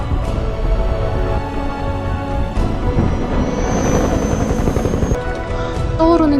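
A helicopter taking off, its rotor roaring steadily up close, with a rising whine and a busy wash of mechanical noise, loud throughout.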